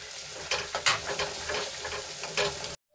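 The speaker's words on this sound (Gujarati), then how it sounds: "આપણી ચટણીમાંથી તેલ છૂટો ન પડી જાય ત્યાં સુધી આપણે એને હલાવતા રહીશું।" Garlic chutney sizzles and fries in a pan while being stirred until the oil separates, with steady crackling broken by a few sharper scraping strokes, close and alone.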